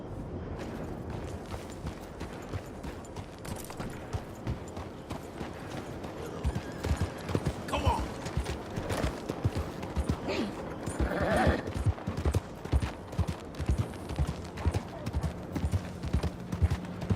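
Horse hooves clip-clop steadily in the Western video game Red Dead Online, a continuous rhythmic trot heard close and loud over ambient game sounds, growing slightly more prominent toward the end.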